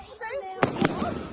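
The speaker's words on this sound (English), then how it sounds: "Anfield fireworks show." Bonfire night fireworks at a show in Anfield, with several sharp explosive bangs in quick succession at moderate distance, over crowd chatter and voices in the background.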